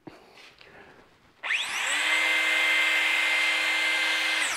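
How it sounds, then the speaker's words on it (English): A Dewalt cutoff saw spins up abruptly after a quiet stretch of faint handling noise, then holds a loud, steady high-pitched motor whine close by until the end. "Not really sure why you would need a reverse in a cutoff saw"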